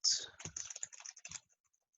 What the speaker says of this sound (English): Kind of typing on the side here.